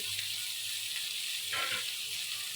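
Chopped tomato goes into a frying pan for a potato-tomato fish roe fry, giving a steady, close hiss of sizzling oil with a slight stir-like swell partway through.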